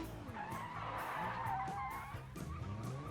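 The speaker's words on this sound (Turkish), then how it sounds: "Drift attığımızda" Car tires squeal and skid continuously while drifting in the BeamNG.drive driving game, with an engine droning underneath, steady and fairly close, no talk.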